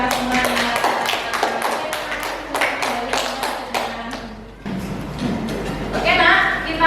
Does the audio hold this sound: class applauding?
yes